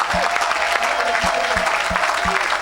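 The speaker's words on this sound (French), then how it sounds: "Oh, acclame plus fort. Acclame plus fort." A church congregation at a gospel event claps loudly and continuously in a dense, close burst of applause, with crowd voices mixed in.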